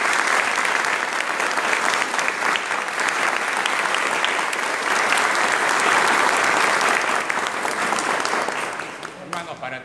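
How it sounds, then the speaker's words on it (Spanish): A large crowd applauds steadily for nearly ten seconds during a Señor de los Milagros religious gathering in Chancay, the dense clapping staying loud throughout before tapering off at the very end. "Pido un aplauso para mi señor de los milagros."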